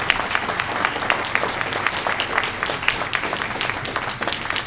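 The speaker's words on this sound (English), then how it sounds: "I think we need to give a big round of applause for our supervisor candidates." Sustained applause from an audience at a candidates' night held by a PTA council, a dense, even patter of many hands clapping that continues throughout without a break.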